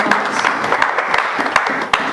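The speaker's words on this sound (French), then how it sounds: "Acclamons pour la parole de Dieu." A church congregation claps and applauds together during a service, a dense, lively patter of many hands filling the room, steady throughout with a few sharper claps standing out.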